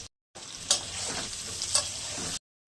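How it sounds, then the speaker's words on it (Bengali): Potato pieces frying in hot oil give a steady, close sizzle, with two brief louder crackles as pieces are turned or lifted. No talking. "আলু ভেজে তুলে নেব"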